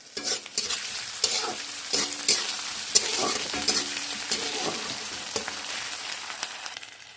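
Fish head frying with raw tomato and a paste of dried red chilli and ginger, cabbage dish on the stove, giving a steady sizzle broken by repeated scraping stirs and crackles, close and moderately quiet.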